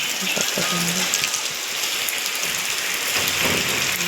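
Steady rain pattering and hissing close by, with a dense, even wash of noise throughout.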